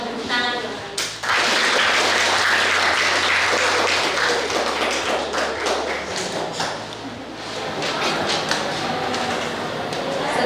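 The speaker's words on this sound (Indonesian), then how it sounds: "Mari kita sambut dengan tepuk tangan." Applause from a school audience welcoming student council candidates, loud, dense clapping that sets in after about a second and carries on throughout, with a low steady hum and some background voices underneath.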